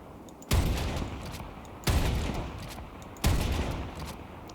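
Gunfire from a sniper rifle in the Warframe video game: three loud, sharp shots at even intervals roughly a second and a half apart, each one trailing off into a long echoing decay, with no talk.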